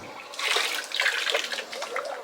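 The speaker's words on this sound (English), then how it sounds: "the stuffing box is leaking, like really bad. Like it's pouring out" Water gushes steadily from a badly leaking stuffing box on a boat, a continuous close splashing pour with no voices.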